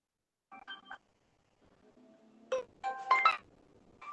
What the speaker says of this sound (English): You can hear the phone.